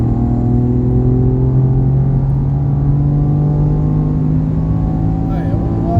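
Car on the Mireval race track, a loud, steady engine drone holding a continuous pitch close to the microphone, with a voice talking over it.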